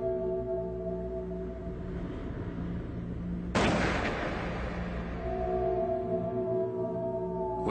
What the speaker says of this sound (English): the guardsmen began raking the camp with machine gun fire